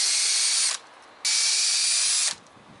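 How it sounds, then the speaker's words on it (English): A wood drill bit bores two large clearance holes through a log, two loud, steady high-pitched whirring bursts of under a second each, separated by a short pause. "Using my wood drill bit, I'm going to drill two nice big clearance holes through here"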